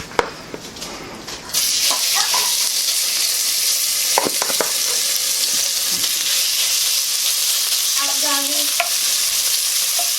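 Beef browns in batches in a stew pot with a loud, steady sizzle that suddenly rises and holds, with occasional stirring scrapes and clinks close by.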